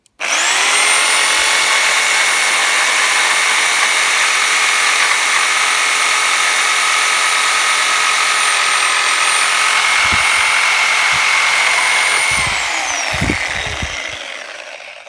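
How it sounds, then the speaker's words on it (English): A Titan TTB533RSP 750W reciprocating saw cutting, a loud continuous high buzzing run for about twelve seconds that winds down into a few clunks as the cut ends. "There's a lot of vibration on the saw."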